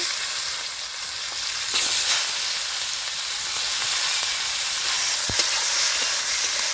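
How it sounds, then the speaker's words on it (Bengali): Bay leaf, dried red chilli, whole garam masala and chopped onion fry in hot oil, a steady bright sizzle throughout with a few sharp crackles and pops, close and fairly loud, no voices. "তেজপাতা দিচ্ছি শুকনো লঙ্কা গোটা গরম মশলা পেঁয়াজ কুচি"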